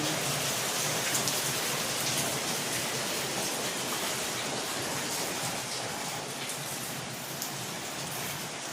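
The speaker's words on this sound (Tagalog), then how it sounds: "lakas ang ulan. Magdamag ang ulan." Heavy rain pours steadily and densely, a constant hiss of drops drumming on surfaces with no letup.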